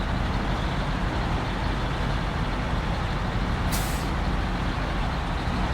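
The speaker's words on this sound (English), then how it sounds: "I'm just gonna get this truck out of the way." Heavy truck in the video game SnowRunner, a loud constant rumbling engine roar with a sharp brief hiss of the air brake near the end, no voices.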